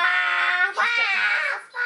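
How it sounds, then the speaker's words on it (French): A kitten cries loudly and insistently nearby, making high wavering meows in two long drawn-out calls with a short break between them. "avec le chaton qui crie"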